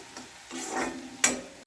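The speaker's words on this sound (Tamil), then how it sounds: "சேர்த்து நல்லா வதக்கிக்கிறோம்" Mint and coriander thokku ingredients sautéing in a pan, a soft steady sizzle with a few light stirring scrapes and one sharper clatter near the end, close by and without talk.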